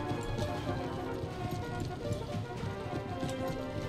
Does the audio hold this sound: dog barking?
no